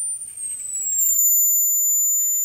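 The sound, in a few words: ultrasonic generator high-pitched whistle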